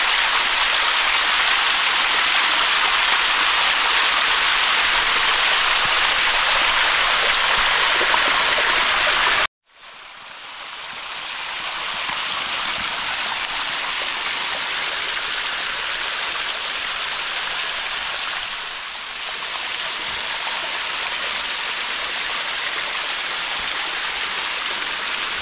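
Small waterfall and stream at Lambley Dumbles pour in a dense, continuous rush of falling water, loud and close, briefly cutting out and then resuming at a slightly softer, steady level.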